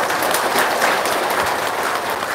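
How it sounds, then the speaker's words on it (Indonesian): Applause from an audience at an Islamic religious gathering, a steady broadband wash of many hands clapping, loud and continuous throughout with no talk over it. "Tepuk tangan dong buat anak-anak yatim sini"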